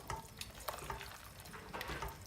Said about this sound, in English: You're just going to want to stir those in so they're evenly distributed throughout your risotto.